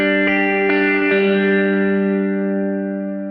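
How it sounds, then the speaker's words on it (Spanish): A sampled Telecaster electric guitar from a virtual instrument, with reverb added: several plucked notes ring together into a sustained, bright chord that decays slowly, with a spacious reverberant tail and no talking. "Acá podemos agregar reverb."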